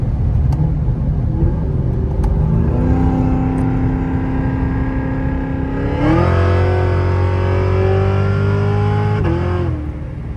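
A supercharged, cammed 800 hp Cadillac CTS-V winds up hard, pitch climbing steadily, then shifts and surges louder with a whining boost before easing off near the end.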